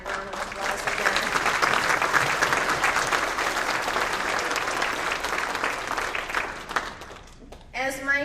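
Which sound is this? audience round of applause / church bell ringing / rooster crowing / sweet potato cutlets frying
audience round of applause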